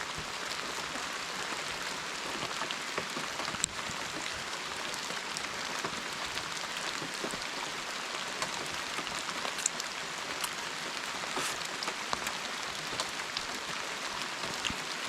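Steady rain falls around a camper during solo truck camping, a dense, even patter on surfaces with scattered louder drops, continuous and close, no voices.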